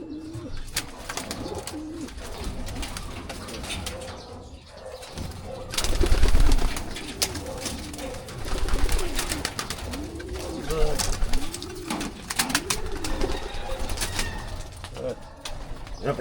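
Pigeons coo repeatedly in soft rolling calls close by, with bursts of wing flapping as birds take off, while someone talks intermittently over the outdoor ambience.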